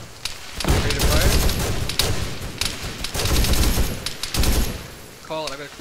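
Gunfire from a tactical video game rolls out in loud, sustained bursts of rapid shots and booms, with short pauses between volleys and a voice speaking briefly near the end.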